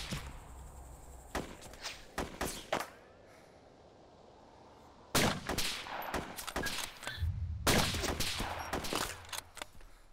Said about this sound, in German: ich werde beschossen, ich werde beschossen